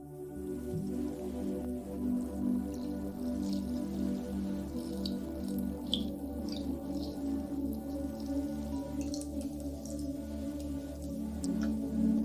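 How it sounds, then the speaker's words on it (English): Water runs and drips steadily over soaked lentils as they are rinsed, a continuous close trickle with scattered small splashes and a low hum underneath. "We rinse them with a bit of clean water."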